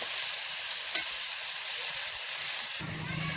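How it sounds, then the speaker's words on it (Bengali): Tomato frying in oil in a kadai, a loud continuous sizzle and hiss held steady close by, with a brief shift in tone near the end and no talking. "কড়াইতে টমেটোটা তেলের ওপরে চাপিয়ে দিয়েছি, ভেজে নেবো"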